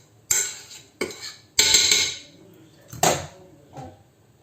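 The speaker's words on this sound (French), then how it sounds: "On essaie de travailler le beurre et le sucre ensemble." Butter and sugar worked together in a bowl for mango cakes, a spoon or utensil clacking against the bowl in five or six sharp, irregular knocks with scraping between, close and fairly quiet.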